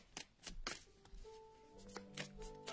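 Close, crisp riffle-and-snap bursts come from animal spirit oracle cards being shuffled by hand, several quick shuffles in a row with faint ringing tones in the background.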